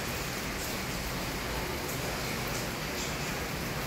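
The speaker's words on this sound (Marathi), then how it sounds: "असा एकदम मुसळधार पाऊस चालू आहे." Heavy monsoon downpour in Pune, a steady dense hiss of rain that holds at an even loudness for the whole stretch, with no voices.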